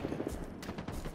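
Rapid gunfire in a Halo Infinite multiplayer match, a steady barrage of shots that stays close and loud through the whole short burst.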